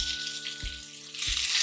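Chopped tomatoes go into a pan of onions frying for a green pea paneer masala, raising a loud, steady sizzle that swells toward the end. Soft low thumps recur beneath it.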